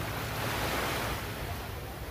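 Sea waves wash steadily onto the shore in a constant, even roar with no break, fairly close and alone without any talk.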